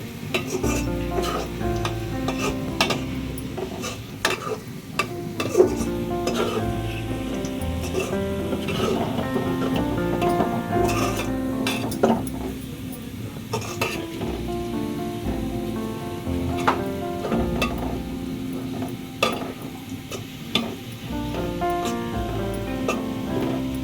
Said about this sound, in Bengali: নরম হওয়া পর্যন্ত পেঁয়াজটাকে আমি ভেজে নিব সুন্দর করে।